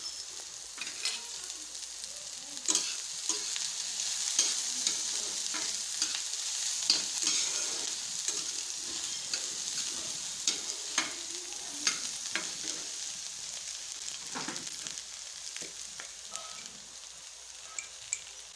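Garlic, green chilli and nigella seeds fry lightly in oil, giving a steady soft sizzle with frequent stirring scrapes and clicks from a utensil against the pan, no talking.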